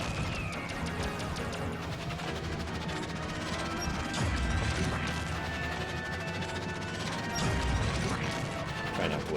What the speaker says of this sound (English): It's a boss fight with a power generator.